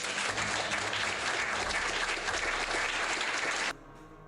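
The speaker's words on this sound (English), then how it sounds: "Real applause." Sustained applause from a crowd, a dense steady clatter of clapping that cuts off abruptly near the end.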